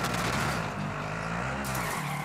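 A car skidding in the video game Warzone, with loud tire squeal over a roaring engine that holds steady for about two seconds.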